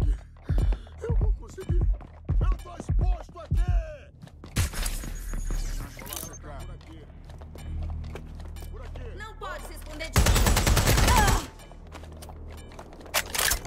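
Video game gunfire in Watch Dogs Legion: a rapid series of sharp shots, then two loud harsh bursts of noise with crashing impacts, mixed with in-game sounds and someone talking.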